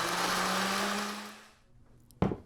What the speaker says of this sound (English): if you have a very old blender like I do, just open it up halfway through and push down that ice